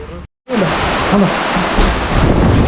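Heavy rain pours in a loud, steady roar, broken by a brief silence near the start, with a voice faintly audible beneath the downpour.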